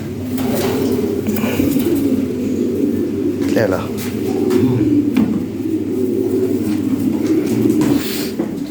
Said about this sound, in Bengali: দেখো দেখো দেখো, সাবধান, শক্তিশালী কবুতর।